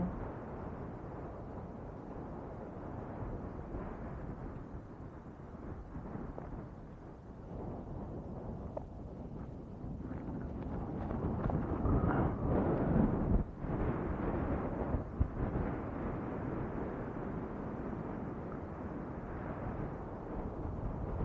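Steady broadband rumble of strong wind buffeting the microphone at Barangay Tigmalapad, Miag-ao, Iloilo, growing rougher and louder midway, with no other distinct sounds.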